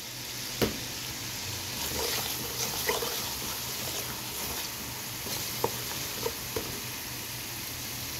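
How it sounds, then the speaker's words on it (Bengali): Onion, ginger, garlic, turmeric and chili masala fries in hot oil with a steady close sizzle, broken by a few light scrapes and taps of a spoon as it is stirred. "এখন আমি মশলাটাকে খুব ভালো করে কষিয়ে নেব"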